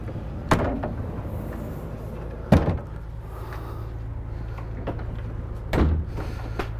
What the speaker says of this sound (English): So if you have guests coming over, you can shut this door.